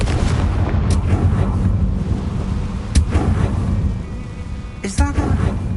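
A Confringo fire spell explodes in the Hogwarts Legacy video game, a loud rumbling blast over dense crackling, followed by a few sharper impacts.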